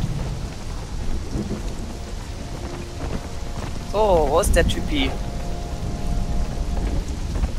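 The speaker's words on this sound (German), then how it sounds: "Oh, es regnet in der Wüste." Steady rain pours with low rumbling beneath it in a desert in the video game Conan Exiles, and a person talks briefly over a short burst of synthetic, warbling tones.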